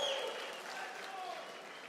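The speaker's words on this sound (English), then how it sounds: "Raise your hand. Cheer. Cheer." Graduation ceremony audience at ABC Southern California applauding and cheering, a broad wash of clapping that fades slowly from a loud start, with no voices standing out.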